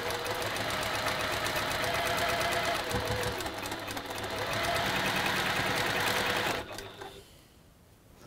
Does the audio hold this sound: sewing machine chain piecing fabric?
yes